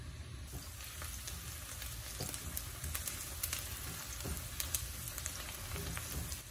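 Onions fry in hot oil with a steady, dense sizzle and a few faint stirring scrapes, soft and continuous throughout with no talking.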